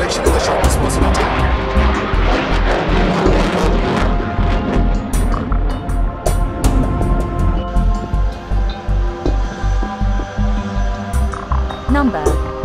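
HAL Tejas single-engine light fighter jet roaring through a maximum turn at an air display, a loud sustained rumble with rhythmic pulsing and sharp clicks, joined by a rising whine toward the end as a narrator speaks over it.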